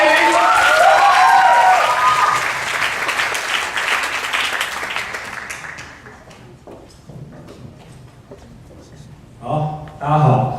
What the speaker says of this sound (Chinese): 那我们用热烈的掌声呢，来欢迎接下来的这位青年才子朱兆 渠